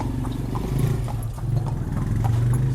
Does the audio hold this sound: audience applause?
no